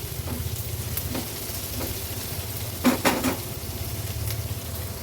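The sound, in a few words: paste cooking with onions in a pan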